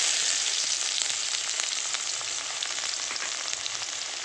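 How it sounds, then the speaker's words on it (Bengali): Chopped onion fries with whole cumin seeds and bay leaves in hot oil, a steady, close, bright sizzle with faint crackles and occasional stirring, heard alone. "এবার ফোড়নে দিয়ে দেবো কটা গোটা জিরে, 3টে তেজপাতা ছোট ছোট, দিয়ে দেবো কুচানো পেঁয়াজ"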